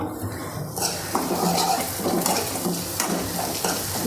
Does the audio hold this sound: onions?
yes